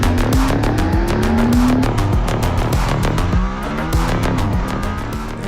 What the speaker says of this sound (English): when the engine starts up, you hear the Formula One engine